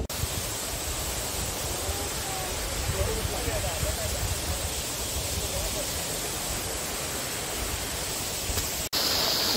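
Alexandra Falls in Mauritius, heard from a viewpoint as a constant broadband rush of falling water, steady and full throughout, with a brief dropout near the end.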